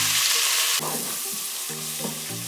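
Chopped onion frying in hot oil for Nigerian coconut fried rice, giving a steady, close sizzling hiss that shifts as it is stirred, with no voices.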